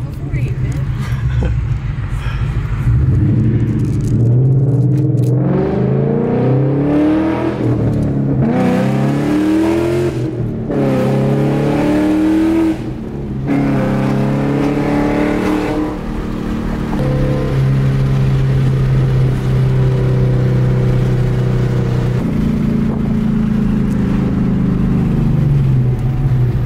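A two-stepped V8 Ford Mustang revs hard and steadily close by, with a few sharp backfire pops standing out, while people talk and shout over the engine throughout.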